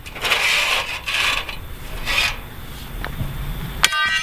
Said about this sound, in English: now I can pull the rebar out of the fence